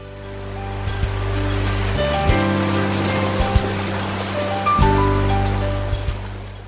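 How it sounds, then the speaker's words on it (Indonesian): Calm ocean waves at Tolanamun beach on Rote, a steady broad wash of surf and sea wind with a low rumble underneath that swells and eases, moderately loud, with no talk. "Di sini langsung disambut dengan angin laut dan suara ombak yang tenang banget."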